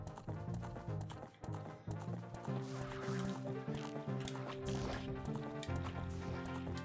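A horse gallops with rhythmic clip-clop hoofbeats in Zelda Ocarina of Time 3D, steady and continuous under game music, with no talking.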